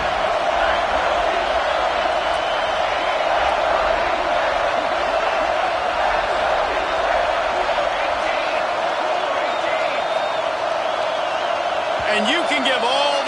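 Steady roar of a stadium crowd at a football game, loud and continuous throughout, with the noise rattling the offense into a false start.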